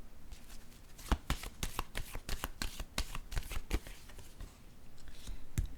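Tarot cards are shuffled close up in a quiet room, a quick run of crisp riffling slaps and soft flutters with a few sharper snaps, continuing steadily without any talking.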